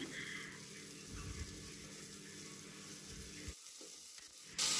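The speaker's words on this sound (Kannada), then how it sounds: "ಬಟಾಣಿನ ಈರುಳ್ಳಿ ಜೊತೆಗೆ ಚೆನ್ನಾಗಿ ಫ್ರೈ ಮಾಡ್ತಾ ಇದ್ದೀನಿ" Peas fry with onions in a pan, giving a steady, fairly quiet sizzle that dips briefly near the end before a sudden louder burst.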